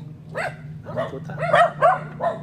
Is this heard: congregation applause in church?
no